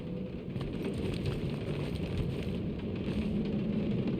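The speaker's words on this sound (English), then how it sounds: "Of course, it had to be raining." Continuous heavy rainfall in Guardians of the Galaxy, with a thick, constant patter of drops and a faint low rumble beneath, no voices.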